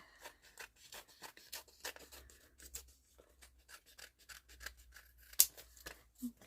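Scissors snip through junk journal paper in a rapid run of close, crisp cuts with short pauses between them, one sharper snip standing out near the end.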